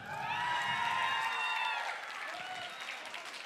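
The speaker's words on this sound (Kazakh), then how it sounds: "Азизбектің командасына қол шапалақлар." An audience in a hall claps for a team during a judged team competition. The fairly quiet, crowded clapping swells for about two seconds, then thins out under faint voices and tones.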